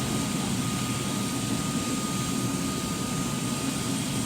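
Jet aircraft engine roaring steadily at Nnamdi Azikiwe International Airport in Abuja, a loud, continuous broadband rumble and whine with a faint high tone, unbroken throughout and with no voices.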